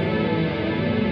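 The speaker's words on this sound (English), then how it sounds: "All these sounds you're hearing, they're just coming out of all these pedals." Guitar effects pedals put out a dense, sustained wash of distorted, echoing tone with chorus-like shimmer, loud and steady through the brief moment without talk.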